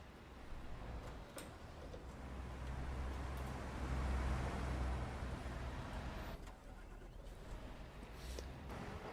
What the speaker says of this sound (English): we can sit here and enjoy some of the trucks that are going past us